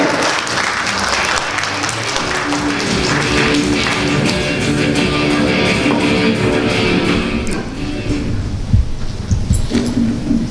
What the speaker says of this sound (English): Big round of applause for Dr. Khaled.